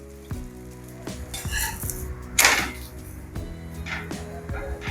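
Aloo dosa frying in a pan: a steady soft sizzle runs underneath while a spatula scrapes and knocks against the pan several times, close and moderately loud, with no voices.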